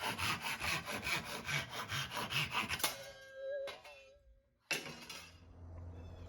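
A hand saw cuts through a wooden dowel from an old curtain rail, taking off 3/4 inch pieces: quick, rhythmic rasping strokes for about three seconds, then quieter scraping and handling noises, with a person talking briefly.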